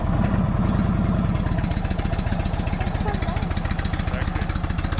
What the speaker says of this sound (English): we're good to start the bike